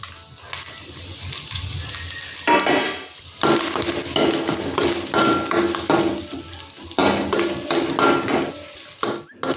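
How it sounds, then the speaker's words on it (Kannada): Grated coconut roasting in ghee in a pan, with scraping and stirring against the metal, soft sizzling and a few sharp knocks from the spoon, all close up with no talk. "ಬಾಣಲಿಗೆ ನಾನು ತುಪ್ಪ ಹಾಕ್ಕೊಂಡೆ ನೋಡಿ ತೆಂಗಿನ ತುರಿಯನ್ನು ಹುರ್ಕೊಳ್ಳು"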